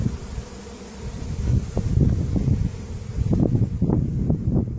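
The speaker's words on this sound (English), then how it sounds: "It sounds like this is a swarm that came in from the woods" A dense, steady buzzing of many honey bees from a swarm fills the air, close and continuous, with some wind rumble underneath.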